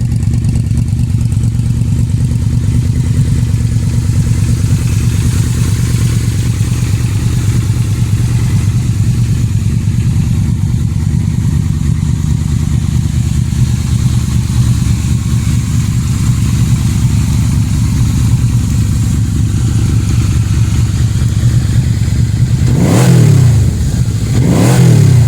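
A heavy Yamaha Royal Star Venture motorcycle, about 950 pounds, runs steadily with a loud, close, continuous low engine rumble, then revs up sharply twice near the end.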